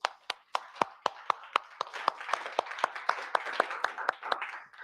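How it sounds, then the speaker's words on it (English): Audience at a Svelte Society developer meetup in London clapping in a small room, with distinct separate claps forming a light, rhythmic round of applause from a modest crowd. "So big round of applause"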